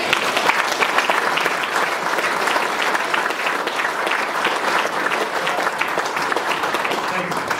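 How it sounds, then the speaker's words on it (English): A room full of people at a book launch in Timaru, New Zealand, claps in a loud, sustained burst of applause that stays even from start to finish. "And I think a round of applause to these guys,"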